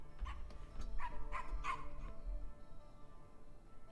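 Puppies in the video game Endling whimpering and yipping in a short run of high, thin cries over a low background rumble, with the calls clustering early and fading out.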